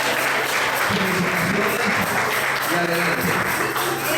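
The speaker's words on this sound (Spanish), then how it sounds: "Le damos un aplauso al Señor." A church congregation at a graduation ceremony applauds in a dense, steady clatter of hands throughout, with a voice briefly speaking over it.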